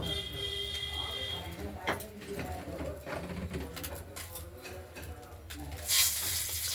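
Hot oil sizzles steadily in a pan as spices temper for a Bengali rohu fish curry with potato and tomato, a low continuous crackle with a few clinks, under a voice talking.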